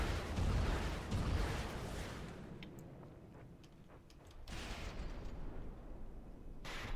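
Weapons firing in From the Depths, a booming burst of heavy cannon fire that fades to a quiet stretch with sharp clicks and ticks, then another loud report near the end.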